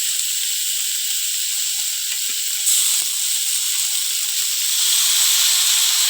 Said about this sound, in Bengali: এবার আমি সর্ষে বাটাগুলো দিয়ে দেবো